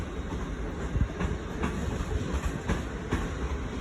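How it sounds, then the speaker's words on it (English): A nine-car passenger train running on the line out of London King's Cross rumbles past steadily, with repeated clickety-clack wheel beats over a continuous low roar. "Nice 9-car train, I think."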